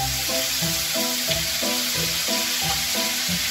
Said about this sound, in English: Cook until it turns brown while constantly stirring.